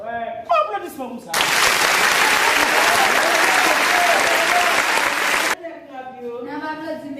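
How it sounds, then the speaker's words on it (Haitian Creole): A classroom of students bursts into loud, sustained applause for about four seconds after a correct spelling of a French word, with talking just before and after the clapping. "Applaudissements pour ça."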